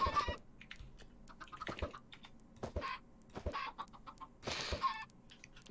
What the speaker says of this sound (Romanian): O găină. O găinușă.